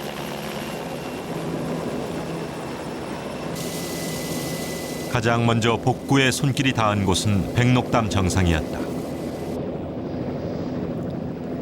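Helicopter ferrying soil-filled revegetation sandbags to damaged ground near the summit of Hallasan, its rotor thudding in a steady loud chop that swells midway, under continuous narration.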